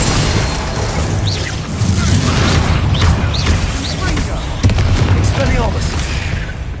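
Spell-casting effects in the video game Hogwarts Legacy, fire and ice spells among them, thud and whoosh in a continuous barrage of booming blasts, while a voice shouts incantations over the din.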